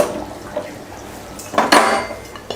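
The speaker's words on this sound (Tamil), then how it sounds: "ஆஃப் பண்ணிவிட்டு மூடி வச்சிடலாம்." A metal lid is set onto a cooking pot of kurma, giving a short clatter and clink of metal on metal after quieter kitchen handling sounds.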